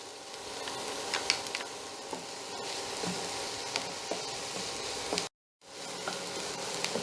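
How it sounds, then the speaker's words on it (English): Chopped garlic sizzling and frying in a pan with softened onions, a steady close crackle with small pops and occasional stirring, no talk and a brief dropout near the end. "I'll add the chopped garlic."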